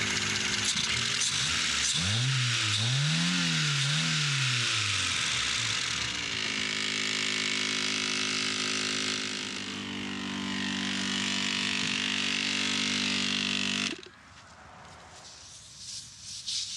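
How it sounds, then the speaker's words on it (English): A long-abandoned Lamborghini's engine revs up and down in a few swelling sweeps, then holds a steady, loud drone before cutting to quiet near the end. "Let's listen to those amazing Lambo sounds one more time"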